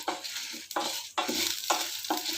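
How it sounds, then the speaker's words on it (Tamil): Urad dal and two dried red chillies frying in oil over a low flame, a steady sizzle broken by four or five short stirring scrapes in a slightly uneven rhythm, close and moderately loud with no voices. "எண்ணெய் ஊற்றி இது வறுத்திட்டு அடுப்பை சிம்மில் வச்சுக்கிட்டிங்கன்னா சீக்கிரம் வறுபடும்"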